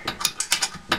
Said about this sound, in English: make sure you tighten them up good right here